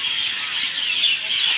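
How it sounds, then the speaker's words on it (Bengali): Birds chirping in the evening at a riverside temple compound, a dense continuous chorus of high calls heard fairly close and loud. "এই বিকালবেলায় এলে পাখিদের আওয়াজ কি মিষ্টি লাগে শুনতে"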